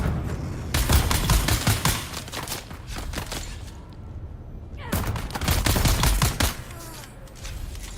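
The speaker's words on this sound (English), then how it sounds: "Just gonna let you guys play with that turret." Rapid turret gunfire from Dune: Awakening in the deep desert, two long, loud bursts of dense shots separated by a brief lull, with a fainter burst trailing at the end.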